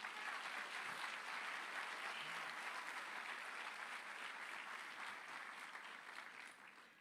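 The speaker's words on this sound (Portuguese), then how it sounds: "Vamos aplaudir o Senhor por isso?" A large church congregation applauds in a dense, continuous wash of clapping that gradually tapers off toward the end.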